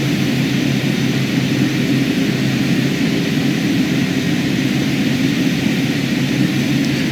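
Twin turboprop engines of a Carenado King Air B200 held at full power with brakes on in MSFS 2020, a loud, constant droning roar with no letup.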